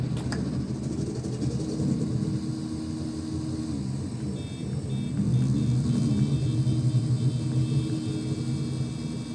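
Racing car engines in a GTA V race drone with a steady, deep rumble that swells slightly midway and stays loud and continuous throughout.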